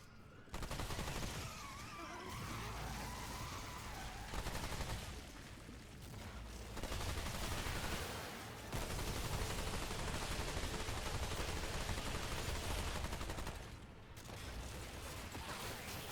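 A deployed turret firing in the video game Remnant 2 during a fight at Root Earth, loud sustained bursts of rapid gunfire with mechanical clatter, running almost the whole time with brief pauses.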